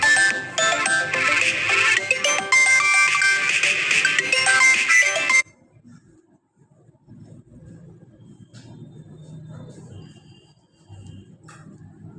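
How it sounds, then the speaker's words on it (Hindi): A mobile phone ringtone plays loudly as a bright melodic tune for about five seconds, then cuts off, leaving quiet room noise and faint movement in a classroom setting. "थोड़ा सा फोन बज गया"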